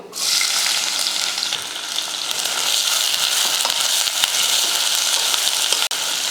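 Onions and whole spices frying for chickpea biryani make a loud, continuous close sizzle in the pan, broken by a few faint stirring clicks.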